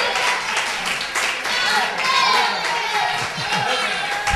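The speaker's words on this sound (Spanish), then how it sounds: "Un fuerte aplauso para Javier" Applause at a youth football club's end-of-season ceremony for a Benjamines B team, a dense crowd of clapping hands continuing throughout, with children's and adults' voices chattering underneath.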